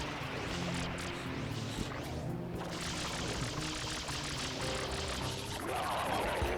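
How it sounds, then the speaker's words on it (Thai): Water sprays steadily in Super Mario 3D All-Stars, a continuous rushing, pouring hiss that stays fairly even throughout, with game sounds layered over it. "อ่ะยิงน้ำสาไปสามา"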